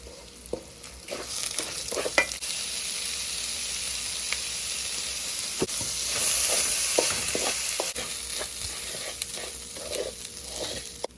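Broken rice tipped into a hot wok over browned ingredients fries with a steady hiss and sizzle, punctuated by scraping stirs and clinks of a spatula, continuous and close for several seconds without speech.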